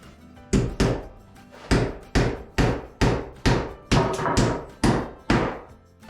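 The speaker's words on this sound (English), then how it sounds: "So I'm going to nail this up. I'm going to nail it on the studs." A hammer drives 3-inch nails into wall studs with about a dozen sharp, loud, close blows in a fairly even rhythm. Several quick strikes fall in a row with short pauses between them.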